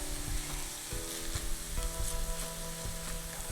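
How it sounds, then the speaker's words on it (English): Onions cooking in oil in a pan over low heat give a soft, steady sizzle with light crackles, the sound quiet and close with no talking. "cook the onions, stirring once in a while for about 12 to 15 minutes"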